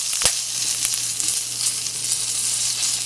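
Ginger, dried red chillies and curry leaves fry in hot oil with a steady, loud, dense sizzle throughout, broken by an occasional sharp crackle or spatter near the start.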